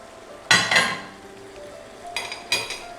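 Garlic and ginger stirred in a pan for Szechwan shrimp, with sharp metallic clinks and scrapes of a utensil against the pan in a few clustered bursts over a faint sizzle.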